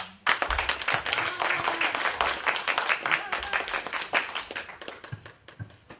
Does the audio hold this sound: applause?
yes